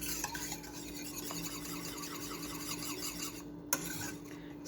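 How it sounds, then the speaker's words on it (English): Chocolate sauce with cocoa powder being stirred continuously in a pot over medium-high heat, a steady close scraping and rubbing of the spoon against the pot with no voices. "because I don't want to burn it, so they have to stir and stir and stir"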